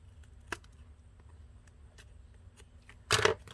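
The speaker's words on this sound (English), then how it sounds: "I'm going to go ahead and take my scissors and trim that" Scissors snip paper during a crafting session, a single sharp cut early on and a louder crisp snip near the end, with quiet room tone between.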